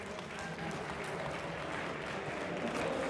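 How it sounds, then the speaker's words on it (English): Crowd applause at a live Age of Empires II tournament final at a gaming festival, continuous thick clapping from a large audience, steady and loud with a faint murmur of voices underneath. "Yes, round of applause, please."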